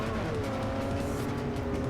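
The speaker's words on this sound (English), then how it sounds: "the Chevy Spark, as we know now, is a 4-cylinder, really small, light car" A small, light four-cylinder Chevy Spark in Forza Motorsport 4 drones along steadily at low speed, its engine holding a fairly even pitch with faint tire noise throughout.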